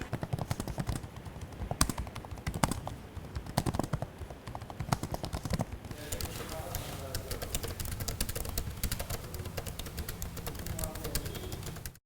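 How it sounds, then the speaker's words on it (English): Keys on an HP Omen Transcend 14 laptop keyboard tapped in quick, steady clusters of soft clicks, close and fairly even, with talking over part of the stretch. "The keys on the HP Omen Transcend 14 sound really mellow and give you that soft touch premium feel"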